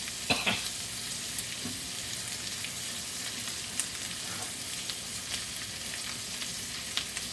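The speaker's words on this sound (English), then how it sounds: "I'm just going to give these black beans a stir" Black beans stirred in a pan over a steady sizzle, with a few sharp spatula scrapes and clicks close by.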